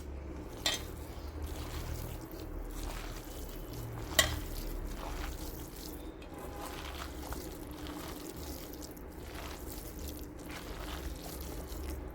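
Curd rice ingredients with a pinch of cumin being stirred and mixed, soft wet squelching and scraping at low level, with a few louder clicks of a spoon against the bowl.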